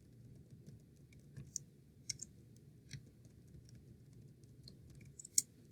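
Quiet, scattered clicks of typing on a computer keyboard, a handful of light keystrokes over a low steady room hum, with one slightly louder tap near the end.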